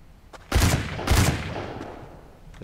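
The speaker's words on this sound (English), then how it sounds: "There is a lot of gunfire going on." Gunfire in the survival video game Rust, two heavy booming shots about half a second apart, each with a long rumbling tail, loud and close against a quiet background.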